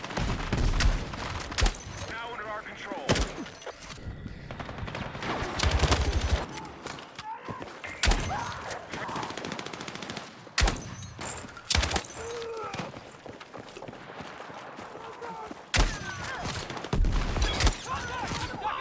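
Shotgun blasts in the video game Battlefield 6 go off in sharp, loud bursts, several spaced shots and quick clusters across the stretch, with game noise between them.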